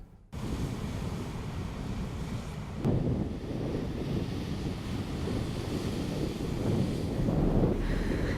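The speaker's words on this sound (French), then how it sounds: "Mer houleuse et féerique à la Pointe des Châteaux." Rough, heavy sea surf crashing at Pointe des Châteaux, Guadeloupe, with swells of three to four metres; a steady broadband roar of breaking waves mixed with wind buffeting, swelling with a louder crash near the three-second mark and no voices.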